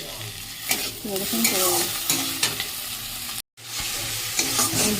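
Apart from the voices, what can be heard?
spice paste sautéing in oil for egg curry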